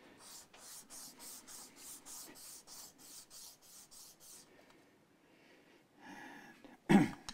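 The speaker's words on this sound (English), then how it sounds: "sometimes if it takes getting a completely fresh piece of sandpaper out to clean it up" Sandpaper rubs back and forth on the wood of a Hamer guitar in a quick, even run of about a dozen close, rasping strokes, then a pause, some light rustling, and a sudden louder bump at the end.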